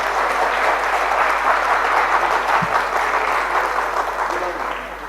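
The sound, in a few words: audience applause welcoming guests onto the stage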